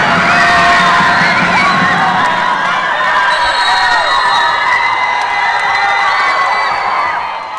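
A school crowd cheers, screams and whoops after winning a volleyball championship, the dense, loud wave of excited high-pitched voices staying nearly constant before easing slightly at the end.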